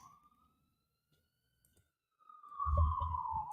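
A siren wails outside, heard faintly at first and then louder as it passes, a sustained rising tone over a low rumble of traffic during the last second or so.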